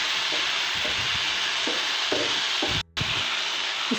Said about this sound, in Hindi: इसे और 1 मिनट अच्छे से घी में भून लेंगे।